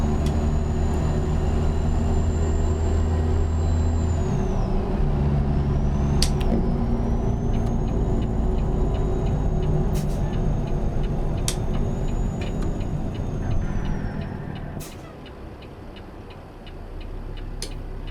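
Heavy truck rumble in American Truck Simulator with a long, drawn-out squeal of brakes locking up near a highway exit, followed by a hiss of air as the engine noise drops.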